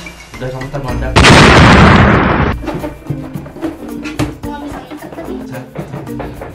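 A balloon bursts with one loud, sharp broadband pop lasting about a second, surrounded by people chatting and laughing before and after.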